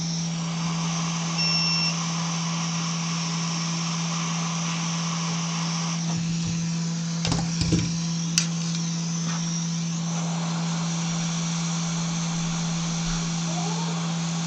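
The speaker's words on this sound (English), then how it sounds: "I'm going to have to resort to using hot air to help get these sockets off the board" A hot air rework station blows steadily while desoldering sockets from an Atari 600XL circuit board. It makes a constant loud whooshing hum with a tonal drone, broken by a few brief clicks and knocks partway through.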